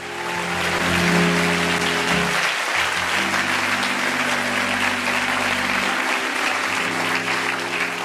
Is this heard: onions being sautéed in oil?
no